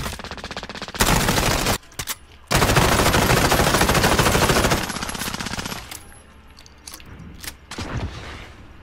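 Loud, close rapid-fire gunfire from MP5 and 725 guns in an online shooter video game, sustained automatic bursts broken by short pauses, then tapering into scattered shots.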